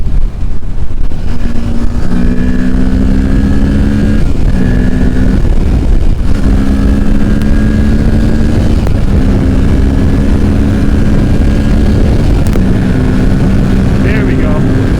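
A 2023 Kawasaki Ninja 650 motorcycle is revved hard in fourth gear, a loud engine note rising in long pulls over heavy wind roar. A rider talks over it in places.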